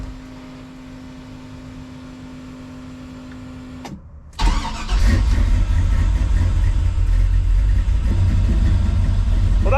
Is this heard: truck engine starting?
yes